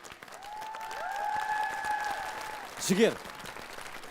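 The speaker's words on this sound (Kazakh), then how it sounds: "Шапалақтарыңыз Жігер Ауыпбаев" Studio audience applauds guest Zhiger Auypbaev on a Kazakh TV talk show, a steady wash of clapping mixed with sustained musical tones as a host's voice briefly speaks over it.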